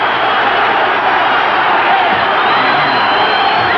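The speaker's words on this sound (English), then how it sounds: "And this crowd is on its feet. It is going berserk." A boxing arena crowd roars steadily during round 10 of a heavyweight bout between Scott LeDoux and Ken Norton, a dense, loud wall of cheering and whoops that stays intense for the whole stretch.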